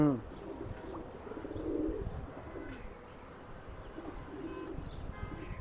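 A pair of racing pigeons, male and female, coo softly nearby in low throaty bursts, with a few faint chirps and quiet background voices.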